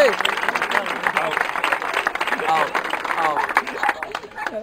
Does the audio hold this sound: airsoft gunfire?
no